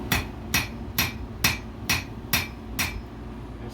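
Blacksmith's hammer striking iron on an anvil as the metal cools, eight evenly spaced ringing blows about half a second apart over a low steady background hum, close and clear.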